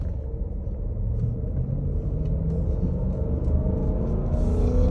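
A 2017 Jeep SRT stuck in first gear as it pulls onto a highway, its engine holding a loud, steady low rumble and drone that never shifts, heard from inside the cabin with no talking.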